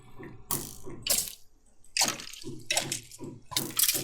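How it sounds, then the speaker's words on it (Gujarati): Splashing water in the game Minecraft, a series of loud bursts of splashing and sloshing with short quiet gaps between them. "પાણીમાં પડી ગયો છે"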